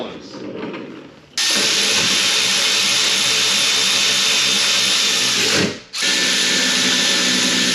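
Power tool bolting a rear stabilizer bar onto a Porsche 997 Turbo during a coilover suspension install in a garage: a loud continuous whirring run that pauses briefly, then resumes, after a quieter mechanical lead-in.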